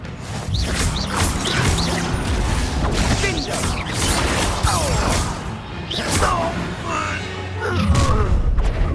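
Confringo fire spell blasts ring out in Hogwarts Legacy combat, dense booming impacts and whooshes layered over continuous battle noise and game music, loud throughout, with character voices heard amid the action.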